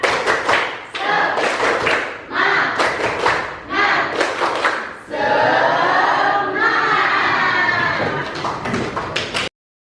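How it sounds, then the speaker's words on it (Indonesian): A classroom group performs the tepuk semangat spirit clap: several rhythmic bursts of sharp unison claps separated by short pauses, with a loud shouted group chant in the middle, ending abruptly. "melakukan tepuk semangat"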